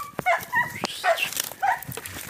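A dog whimpers and gives short yips and barks during an early-morning outing in northeastern Brazil, close and fairly loud, in a few quick bursts with brief pauses between them.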